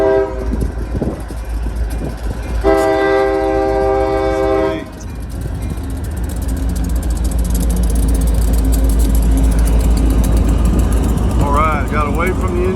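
An SD40 diesel locomotive, long hood forward, pulls a long freight train on a short line, with a blast of the horn followed by a loud, steady rumble of engine and rolling cars under wind noise and a voice.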